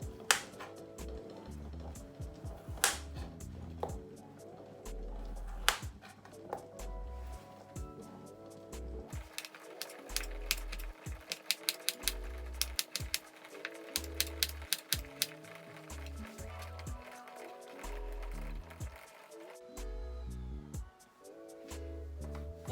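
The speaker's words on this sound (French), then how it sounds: "Maintenant, je vais découper la carotte." A carrot being sliced with a knife on a cutting board for a potato salad, giving a long run of quick, crisp chopping taps that grow denser midway, close and fairly faint, with no talk.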